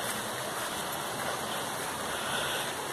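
Water runs at the Jaceruba waterfall in Nova Iguaçu, Rio de Janeiro, with a low, weak flow on a cold day. It makes a steady, even rushing hiss that stays close and constant, with no voices.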